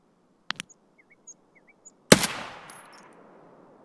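Gunfire in the video game Escape from Tarkov: two sharp shots, a few faint clicks, then one loud report with a long echoing tail fading over the following seconds.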